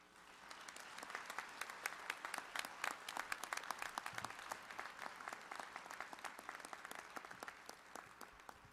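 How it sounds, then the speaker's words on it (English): Sustained audience applause at an honorary doctorate ceremony at Kutztown University, dense clapping from a large crowd that swells and continues for several seconds, heard from a distance and fairly faint. "Let's give another round of applause to Dr. Williams, please."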